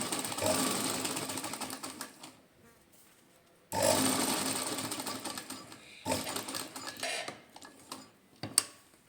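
A sewing machine stitches a pocket onto trousers in close, steady bursts of rapid mechanical whirring, broken by short pauses between runs.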